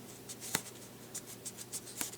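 Children's scissors cut into foam for a Deathstroke helmet with faint, scattered snips and scrapes, a few short crisp cuts spaced irregularly at close range in a quiet room.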